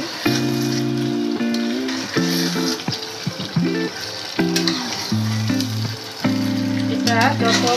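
Chicken with masala and spices frying in a pan for a Bangladeshi roast, stirred steadily with a utensil; a close, loud sizzle runs throughout, with clinks and scraping from the stirring and a pitched tonal sound laid over it, and no talk.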